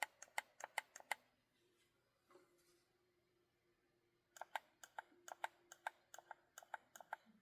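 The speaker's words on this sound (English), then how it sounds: "the right trigger with the trigger lock unengaged. Has this kind of sticky clicky sound." The right trigger of a Mojhon Rainbow 3 game controller, with the trigger lock unengaged, makes sticky, clicky presses: a quick run of sharp close clicks, a pause, then another longer irregular series of clicks in a quiet room.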